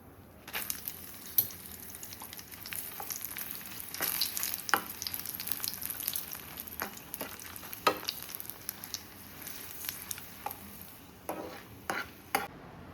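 Buttermilk-soaked dried chillies (majjiga mirapakayalu) fry in hot oil in a pan, giving a steady close sizzle with occasional sharp pops and crackles and a few stirring scrapes, with no talking.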